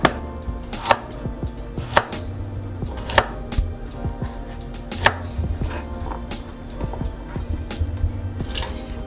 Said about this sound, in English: Just chop them like this.